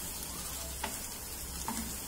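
A masala mixture for a lady's finger curry fries in a pan, a faint continuous sizzle with two soft scraping stirs of a spoon, no voices.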